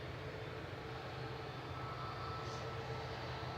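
An EasyJet Airbus A321 at Manchester Airport roars through a high-power takeoff, its jet engines giving a continuous distant rumble and broadband roar that holds steady throughout.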